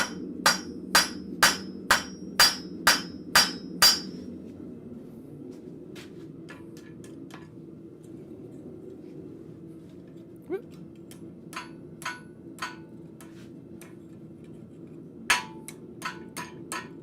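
A steel hammer striking hot steel on an anvil while forging a cloak pin in a blacksmith shop: a quick run of eight sharp, ringing blows, a pause, then scattered lighter taps and a few more strikes over a low forge hum.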